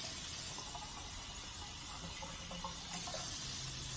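Water runs steadily from a tap into a pot for Puerto Rican rice, a continuous close gushing and splashing with no talk.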